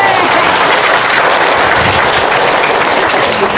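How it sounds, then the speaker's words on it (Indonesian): Steady, dense audience applause fills a seminar room, loud and unbroken throughout with no pauses. "Tepuk tangan dong."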